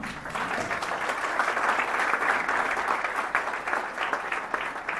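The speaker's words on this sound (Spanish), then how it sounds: "Vamos a darle un fuerte aplauso" A crowd at a tax reform talk claps loudly and continuously in steady, sustained applause throughout.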